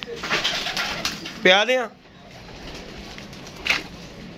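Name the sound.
pet pigeons cooing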